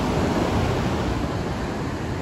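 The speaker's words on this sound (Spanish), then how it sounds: "Disfruten de este paisaje tan bello como es el mar." Sea surf washing onto a beach in Oxnard, California, a steady broadband roar of waves with no break and no other sounds on top.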